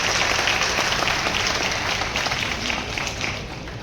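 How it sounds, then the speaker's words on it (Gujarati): Sustained audience applause at the Saptrang Creators Fest award ceremony, a dense, steady wash of many hands clapping that fades slightly toward the end. "એકવાર જોરદાર તાળીઓથી"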